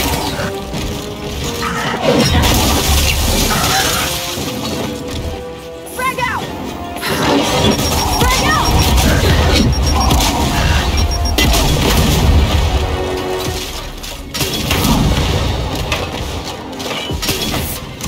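A frag grenade explodes in the video game Gears 5, with heavy booms and crashing blasts running through a loud, dense stretch of combat noise, and voices talking over it.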